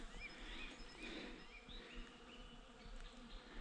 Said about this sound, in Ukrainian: Верба цвіте, бджоли гудуть.